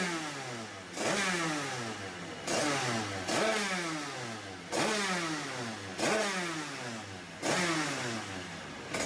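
A moped two-stroke engine fitted with a Big Evo 94 AM6 cylinder kit, exhaust and crankshaft revs repeatedly, five or six sharp climbing bursts each falling back, loud and close with no voices.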